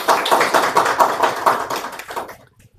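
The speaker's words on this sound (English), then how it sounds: "can we have a round of applause for all the panelists for today?" Applause from an audience honouring panelists at a press conference, a dense patter of many hands clapping loudly and close, then tapering off and stopping near the end.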